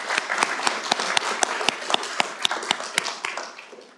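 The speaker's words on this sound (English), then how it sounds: "So let's give them a round of applause for that." Small group applauds at a junior Olympic boxing tournament news conference, a sparse clapping with distinct individual sharp claps in an uneven rhythm, fading out toward the end.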